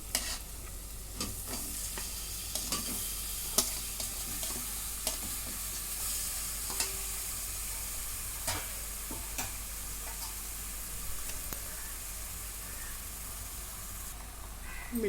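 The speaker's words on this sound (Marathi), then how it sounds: "आता मी याच्यामध्ये चिकन टाकून घेते" Chicken sizzles steadily in hot oil while a utensil scrapes and clicks against the pot at irregular intervals.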